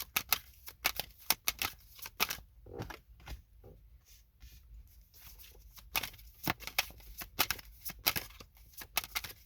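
Tarot cards being shuffled and drawn for a reading, giving a run of crisp riffling and snapping card sounds in bursts with short pauses, close and fairly quiet, with no talk.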